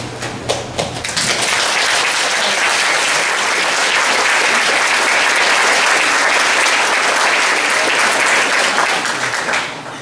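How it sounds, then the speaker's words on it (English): Audience applause at a congressional town hall meeting in Springfield, Pennsylvania, a steady, dense roar of clapping from a large crowd that fills the whole stretch and tapers off at the very end. "that wasn't an applause line"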